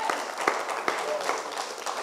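A church congregation claps in a steady rhythmic beat, with sharp claps landing about every half second over a warm crowd wash and no clear speech.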